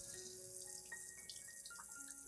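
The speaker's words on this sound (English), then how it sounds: "take the plant and rinse it under clean running water" Tap water runs steadily over the roots of a snake plant being rinsed clean of soil, a soft continuous splash and trickle with a few brighter drips, close by and with no voices.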